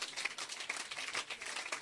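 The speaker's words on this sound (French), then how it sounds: "Donnez-nous une acclamation au Seigneur." A church congregation applauds and cheers in praise during a French-English worship service, a soft, dense patter of clapping with scattered voices, faint and steady throughout.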